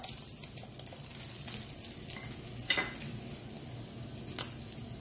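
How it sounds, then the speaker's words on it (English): Onions caramelizing in rendered fat in a hot cast iron pan, a soft steady sizzle with a couple of louder stirring scrapes, near and without voices. "start adding my seasoning and caramelizing my onions"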